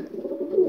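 Low, soft cooing from a pigeon kept by a Polish pigeon breeder, a continuous murmuring coo held close and steady through the short moment, with no talking.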